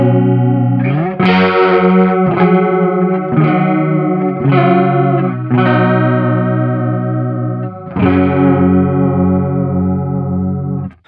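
Electric guitar through a Sonicake chorus pedal at maximum depth gives a seasick, warbly tone: six or seven sustained chords strummed one after another, loud and close, each swelling with heavy pitch wobble.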